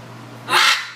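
An exotic bird in a walk-in aviary gives a single loud, harsh squawk lasting about half a second, rising sharply over a low steady hum.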